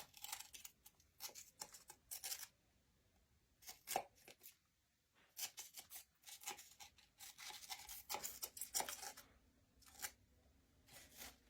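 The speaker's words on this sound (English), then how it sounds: "I cut in between the pallets" An X-Acto knife cuts between the boards of a small craft pallet sign, giving short, crisp scraping and slicing strokes in irregular bursts with quiet gaps, close and faint.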